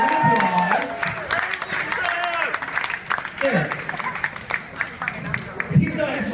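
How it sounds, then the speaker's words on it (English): Cruise ship audience applauding a guest introduced on stage, clapping and some cheering from a crowd mixed with a host speaking and bits of music. "Give him a round of applause."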